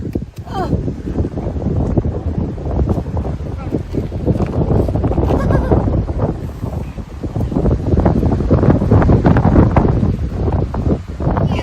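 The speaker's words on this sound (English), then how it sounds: "Windy, windy." Strong wind roars and buffets the microphone continuously on a cliffside hiking trail with ladders, a loud rushing gusty noise with occasional faint voices beneath it.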